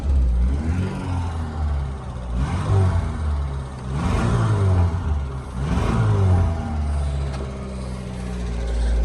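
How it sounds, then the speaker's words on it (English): Engine of a 1989 car, long stored and just revived, revving in repeated rising and falling throttle blips over a steady idle, close and loud with no talking. "Let's give it a little bit of throttle here. See how it sounds."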